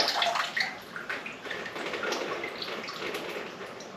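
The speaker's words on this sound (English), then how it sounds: "It's not actually coolant, it's just water," Water drains out of a 1937 Opel engine during removal, a soft, steady splashing and trickling pour with small drips. It is fairly quiet and continuous, with no talk.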